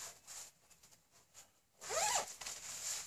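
A softshell jacket zipper is drawn up in one quick, close rising rasp, preceded by faint rustling of the fabric.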